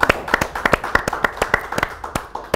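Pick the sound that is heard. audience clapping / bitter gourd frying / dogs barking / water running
audience clapping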